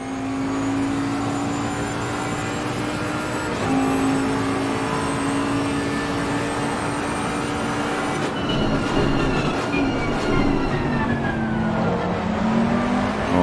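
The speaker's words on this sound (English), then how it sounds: "we'll enjoy the noise of the Bentley inside the cockpit" Onboard cockpit sound of a Bentley race car in a sim racing game at Kyalami: a loud, sustained engine drone with steady harmonic whine, shifting pitch as the car slows and accelerates.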